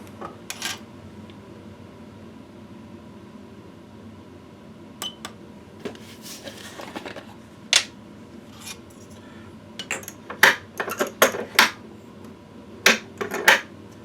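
Metal powder pan handled at a reloading bench for .357 Magnum and .38 Special charges, giving scattered light clinks, taps and scrapes against a quiet room background.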